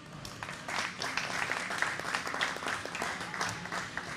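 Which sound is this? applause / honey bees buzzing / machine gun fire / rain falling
applause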